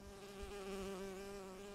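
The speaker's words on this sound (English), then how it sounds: "Oh, it's a bee." A bee buzzing in the game Bioshock Infinite, a steady close drone with a strong harmonic whine that wavers slightly in pitch, heard alone without talk.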